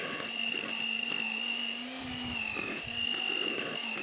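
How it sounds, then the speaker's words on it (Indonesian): Electric hand mixer beating an ice cream base at high speed, a steady high-pitched motor whine with a droning hum and slight pitch wavering, continuous and close with no talk. "Kita mixer dengan kecepatan tinggi ya, supaya dia ngembang sempurna ya."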